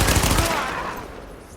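A burst of rapid automatic gunfire from a weapon in The Division, loud and close at the start, then fading into a decaying echo.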